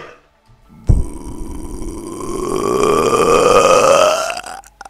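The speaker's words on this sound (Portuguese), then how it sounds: "Dá um arroto." A Minecraft mod's burp sound effect: after a brief thump, one long, loud, deep belch swells and holds for about four seconds, its pitch slowly rising, then cuts off abruptly, with no talk over it.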